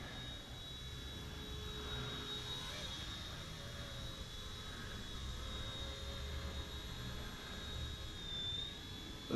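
A small ready-to-fly remote control helicopter hovering, its steady high-pitched rotor whine holding at an even, moderate level throughout with no talk.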